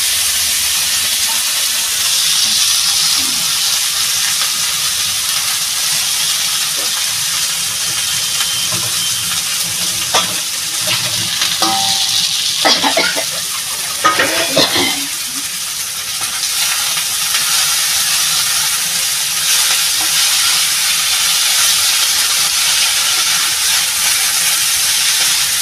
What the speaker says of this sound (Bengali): আমি এবার শাকটা কড়াইতে দিয়ে দেবো